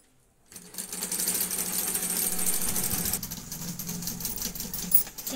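A sewing machine stitches a suit, starting after a brief quiet moment and then running as a continuous close whirring clatter for several seconds, easing slightly toward the end, with no talking.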